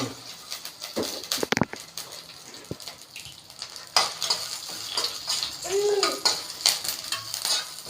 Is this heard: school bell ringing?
no